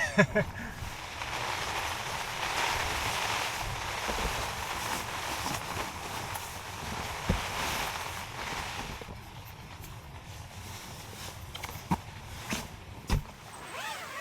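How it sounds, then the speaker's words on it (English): Strong wind from a winter storm with high winds, heavy rain and ice batters a camping tent, a steady broadband roar with gusts swelling and easing over the whole span, plus a few sharp knocks and flaps near the end. "And there's the wind."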